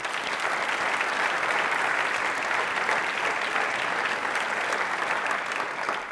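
Studio audience at an Independence Day quiz show clapping loudly and continuously, a dense even roar of many hands throughout.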